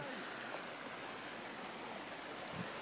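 Continuous soft roar of falling water, a steady wash of sound heard from some distance, fairly faint and unbroken.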